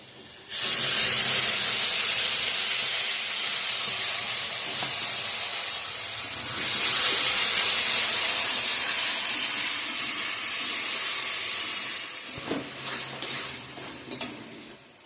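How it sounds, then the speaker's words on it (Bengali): Spice paste hits a hot pan for Bengali ghugni, bursting into a loud, steady sizzle and hiss with scraping stirs, easing briefly then flaring again before fading into scattered crackles. "পেস্ট করা মশলাটা এখন দিয়ে দিব।"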